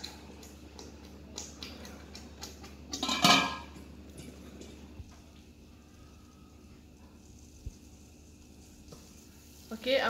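A lid clatters onto a pot of simmering chicken curry on a low flame, a brief close metallic clang over a soft, steady background hiss, followed by a quiet tap and another faint clink near the end.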